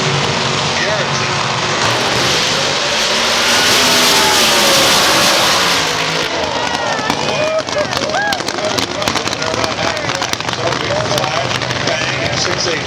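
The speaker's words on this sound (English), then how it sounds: "Alcohol dragster qualifying." An alcohol dragster qualifying at a Seattle drag strip during the 2008 NHRA Northwest Nationals gives a loud, sustained close-up roar that shifts partway through into a rougher crackling, sputtering run.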